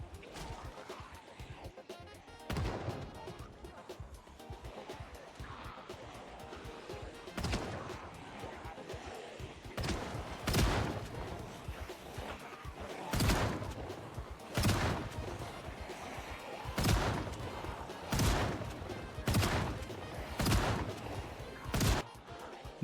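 Gunfire from firearms in the zombie survival video game Project Zomboid: loud, sharp shots that come sparsely at first, then repeat every second or two over a low, murky background.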